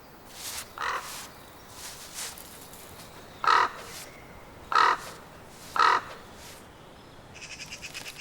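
Crows cawing in a snowy winter landscape, several short harsh caws spaced a second or so apart, fairly close and clear over a quiet outdoor background with faint softer calls early on.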